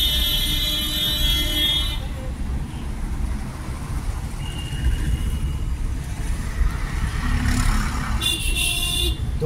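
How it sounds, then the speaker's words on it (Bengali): Car horn honked while driving through busy office-hour city traffic, short honks sounding over a continuous rumble of road vehicles, with a brief buzzy burst near the start and another toward the end. "একবার করে একটা করে হর্ন মারবে"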